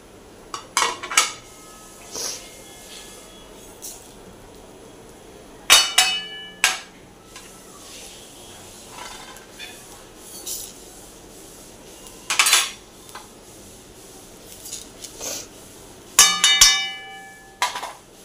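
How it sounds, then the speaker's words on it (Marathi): Whole spices dry-roasting in an iron kadhai give scattered clinks and scraping knocks of a spatula against the pan, in irregular bursts over a quiet background. "आता आपण हा अख्खा मसाला भाजून घेत आहोत."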